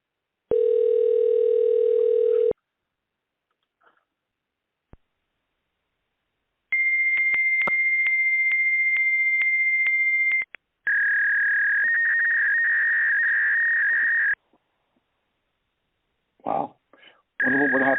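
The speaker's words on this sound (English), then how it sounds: "And then I get some kind of fax tone" A dental practice's phone line answers with long, steady electronic tones, then a sustained high fax-like whine, each lasting several seconds with silent gaps between, followed by a few brief bursts of sound at the end.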